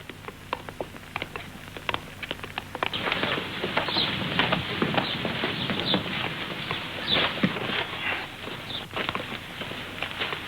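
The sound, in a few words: horse hooves clip-clopping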